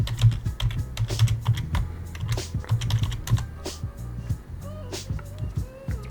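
Computer keyboard keys tapped in quick, uneven bursts while a password is entered, close and moderately loud, with low background hum and no talking.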